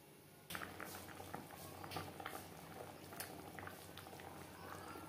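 Rui fish curry with data stems and potatoes bubbling in a pot, with a soft, steady simmer of close, fine popping and patter that continues throughout without any talking.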